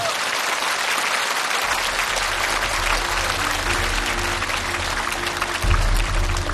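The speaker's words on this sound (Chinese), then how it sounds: "同时我们要用热烈的掌声感谢所有的乐手老师们对节目的" Sustained audience applause on a TV singing competition stage, thanking the backing band musicians, dense and steady throughout with a low musical hum underneath and a swell near the end.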